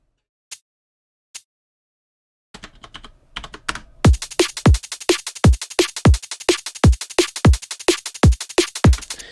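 A drum and bass beat with busy 16th-note hi-hats ticking over punchy low kick and snare hits, starting sparse with a few isolated clicks before the full driving pattern kicks in loud and close.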